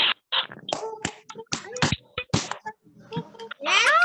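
Quick, sharp hand claps keep a rhythm alongside children's sing-song voices, close by, during a Sunday school clapping song.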